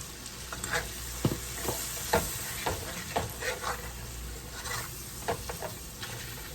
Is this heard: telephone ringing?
no